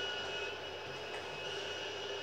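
Airplane engines from the video game GTA V make a steady, continuous drone that fills the whole clip at moderate level, with no talking over it.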